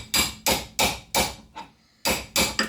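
Sharp metallic hammer taps driving a socket onto a wheel hub bolt during a Nissan 350Z hub and bearing replacement, seven to eight close, loud strikes in an uneven rhythm with a short pause midway.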